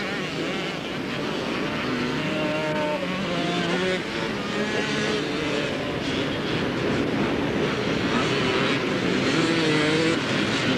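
Motorcycles and quads race on Southport beach in 1992. A continuous, somewhat distant roar of several engines whines and shifts pitch as they pass, with no break for the whole stretch.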